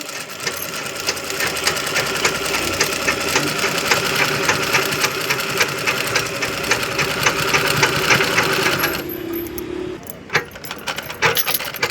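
Sewing machine running steadily with a fall-attaching foot, stitching a fall onto a light yellow saree; a continuous fast whirring hum that stops near the end, followed by faint clicks.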